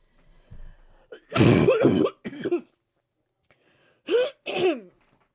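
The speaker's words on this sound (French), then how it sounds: "il a fallu que je tousse" Someone coughs and clears their throat in several harsh bursts, close up, with short pauses between them.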